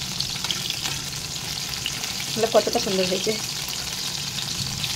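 Chicken pakoras frying in hot oil give a steady, close crackling sizzle throughout, while someone talks briefly over it midway.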